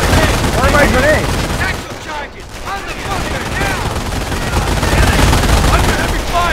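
Heavy gunfire in the World War II strategy game Company of Heroes, with sustained machine-gun and rifle fusillades rattling continuously, briefly dipping before swelling again, under the shouts of soldiers' voices.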